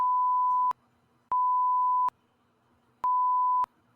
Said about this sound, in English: That's 3 beeps.